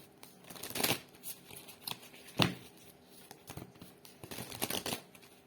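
Tarot cards being shuffled by hand, with several bursts of riffling and flicking card noise separated by short pauses, close and moderately loud, and no talking.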